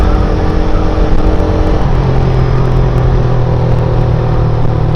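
A stock carbureted Suzuki Raider 150 motorcycle held at top speed on a road, its engine a loud, constant droning roar with a steady pitch that dips slightly partway, wind noise throughout, no voices.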